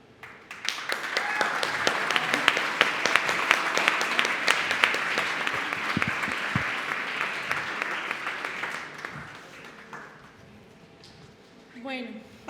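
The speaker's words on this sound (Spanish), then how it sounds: "Un fuerte aplauso, por favor." An audience at a literary reading breaks into a sustained round of clapping that swells quickly, holds for several seconds, then thins out and fades, with a brief voice at the end.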